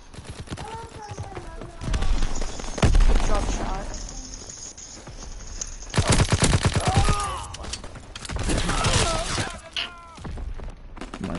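Rapid gunfire in a WW2 shooter video game, sharp cracks and bursts clustered in volleys with loud explosive peaks, mixed with game effects while players talk over the action.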